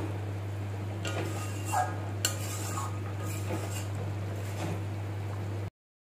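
A spoon stirs garam masala and ghee into a cauliflower malai curry in a pan, soft scraping and light clinks over a constant low hum, then a brief cut to silence at the end.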